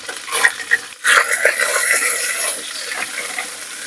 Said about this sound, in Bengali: ওই তেলে এবার আমি এতে পেঁয়াজ কুচি দিয়ে দেবো।